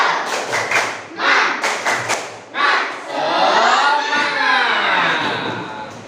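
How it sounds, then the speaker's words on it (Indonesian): Schoolchildren in a classroom do a rhythmic spirit clap, a quick run of loud, sharp group claps and thumps in bursts, followed by the class shouting and chanting together near the microphone. "Kita tepuk semangat, oke?"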